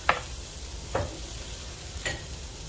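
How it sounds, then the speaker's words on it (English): Onions and garlic sizzle steadily in a pan while a utensil scrapes through them in three separate stirring strokes, close and clear against the constant frying hiss. "toss in this garlic really quick. Just give that a little mix."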